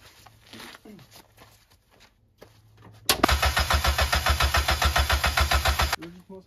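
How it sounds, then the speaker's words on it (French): A Mazda MX-5 turbo engine with its cylinder head rebuilt cranks over on the starter with the injection disconnected to fill the oil filter. After quieter workshop noise, about three seconds of loud, close, rhythmic chugging begins abruptly and then stops without the engine catching. "je vais juste tourner le moteur pour remplir le filtre à huile."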